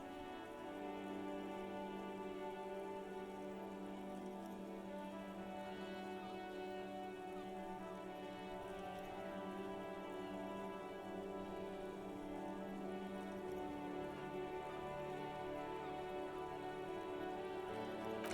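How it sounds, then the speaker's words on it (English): Steady rain ambience in the video game Disco Elysium, falling over a precinct building in a city, a constant soft wash of drizzle with a low hum underneath, no voices. "Precinct 41 hunches in the rain."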